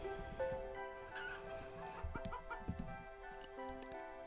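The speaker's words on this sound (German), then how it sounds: "Die Hühner sind fleißig am Eierlegen." Chickens cluck in the video game Planet Centauri, a scattering of short, quiet clucks and chirps over faint game music, fairly soft throughout.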